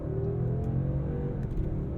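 A 2022 Mercedes-Benz S 580 accelerating hard from a standstill in comfort mode, its engine a steady low, smooth roar with a rising whir, heard from inside the cabin with no talking.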